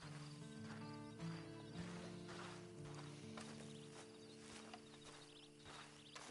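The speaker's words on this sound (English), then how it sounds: "And you better get on this horse." A horse in Red Dead Redemption 2 clip-clops with soft, steady hoofbeats at a distance. The hooves sit faintly beneath sustained game music.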